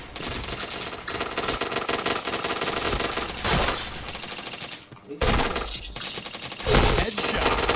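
Rapid automatic gunfire in the video game Point Blank rattles in loud sustained bursts, broken by a short silent gap before the firing resumes, with faint game sounds underneath.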